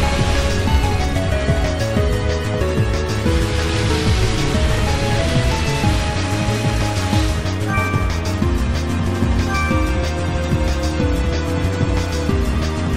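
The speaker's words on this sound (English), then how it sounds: "It's pouring rain in the Coliseum." Heavy pouring rain falls in the Coliseum of Pokémon Battle Revolution, a dense, continuous hiss with game music layered underneath, steady and loud throughout.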